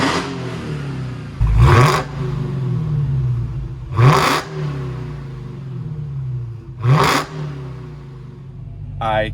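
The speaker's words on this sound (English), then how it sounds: "we'll give it a few revs." Dodge Hellcat V8 blipped three times from idle, each rev a loud close roar that quickly falls back to a deep rumbling idle between the bursts.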